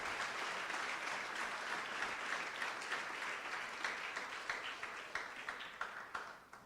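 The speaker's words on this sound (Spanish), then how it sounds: "Quiero que le des un aplauso a él," A church congregation applauding during a Spanish-language Christian sermon, with dense, steady clapping from many hands that holds strong throughout and thins slightly toward the end, with no talk over it.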